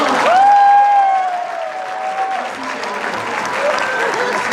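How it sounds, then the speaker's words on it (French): A crowd at a comedy show in Kinshasa applauds loudly, with a whistle-like tone rising near the start before the clapping settles into a steady, full wash. "Est-ce qu'on peut l'applaudir très fort?"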